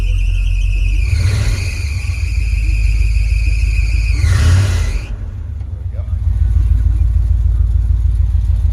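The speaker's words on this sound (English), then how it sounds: "Alternator's going to squeak for a second." A high-pitched alternator belt squeal rides over a loud idling car engine for several seconds, flares again briefly, then cuts off while the engine keeps running.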